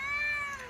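A house cat gives a single short, steady meow close by, fading quickly at the end, with no one talking.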